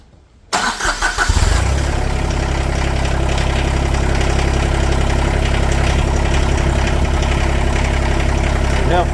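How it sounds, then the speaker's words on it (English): A farm tractor's diesel engine cranks briefly, catches and settles into a loud, steady, rumbling idle close by, running continuously after a short start. "now we'll have to start the tractor again to get the fuel back into"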